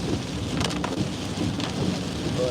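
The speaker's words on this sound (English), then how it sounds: "But lots of just rain, doesn't stop" Heavy rain pouring steadily during a storm in Southwest Florida, a dense continuous wash of falling water with faint rumbles beneath, no voices.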